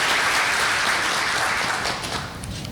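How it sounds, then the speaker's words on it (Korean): An audience at an energy forum applauds a speaker being introduced, producing a steady, dense round of clapping that tapers slightly near the end. "손 원장님 박수 한번 좀 부탁드리겠습니다"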